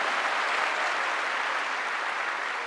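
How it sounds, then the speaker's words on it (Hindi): An audience at a business success event applauds with sustained, moderately loud clapping from many hands, an even crackle that carries through without talk. "प्लीज इनके लिए जोरदार ताली हो जाए"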